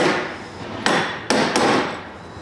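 A hammer strikes a chisel against the fuel pump lock ring of a Chevrolet S-10 Blazer, three sharp metallic blows ringing out and fading, close and loud with no talk.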